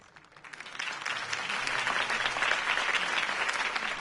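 A crowd in the Batman game bursts into sustained applause, clapping building quickly to a dense, steady roar that carries on to the end.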